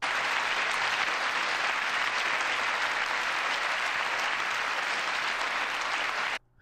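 Sustained applause fills a chamber during a State of the Union address, loud and steady throughout before cutting off abruptly at the end.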